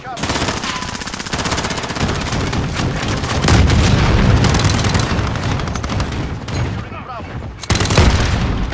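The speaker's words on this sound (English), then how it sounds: "my grenade blew up that person and shot him right across the wall" Gunfire and a grenade blast in a first-person shooter, with sustained rapid automatic fire and heavy booms rattling on loudly throughout, while someone talks over the action.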